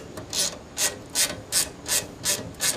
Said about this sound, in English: And now you can tighten all your bolts.